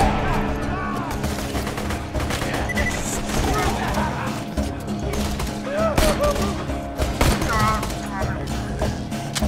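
Gunfire from the Borderlands 2 video game crackles in dense, rapid bursts throughout, mixed with game effects and a voice talking over it.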